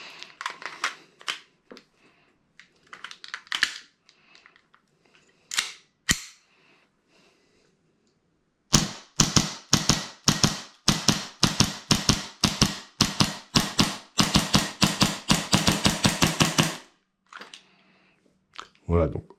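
Custom pistol fires rapid pairs of sharp shots at cardboard targets during an IPSC-style stage, a dense run of loud cracks after some earlier scattered clicks and handling noises, with brief speech at the start.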